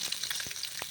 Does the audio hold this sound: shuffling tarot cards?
no